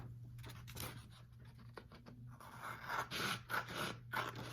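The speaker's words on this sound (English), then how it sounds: "you're just going to cut along the fold with your scissors" Scissors cut along a fold of paper in a quiet indoor craft setting, giving a close series of dry scraping, crunching snips in irregular bursts, with no talking over them.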